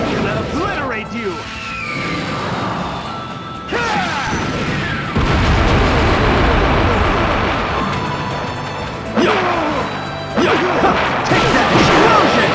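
Explosions and heavy smashes from the Naruto Shippuden: Ultimate Ninja Impact video game, with repeated loud crashes and bursts layered under continuous shouting voices during a fight.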